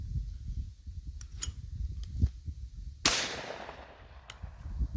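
A single sharp shotgun blast fired at a thrown clay pigeon outdoors, with a few faint knocks and rustles before it and a short echoing tail after.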